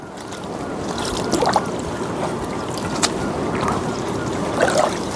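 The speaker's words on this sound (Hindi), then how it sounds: "सुबह से अभी बारिश थमने का नाम ही नहीं ले रही है।" Heavy rain pours onto a rooftop in a hill home during a long downpour, a dense, steady hiss throughout with a few louder splashes and drips standing out near the listener.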